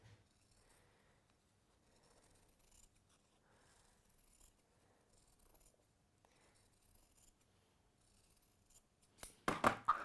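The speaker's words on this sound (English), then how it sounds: "And then you're going to cut yourself a generous 1/4 inch around there." Scissors snipping through fabric around a paper template while sewing: a brief crisp burst of cutting near the end, following a long stretch of quiet handling and faint rustling.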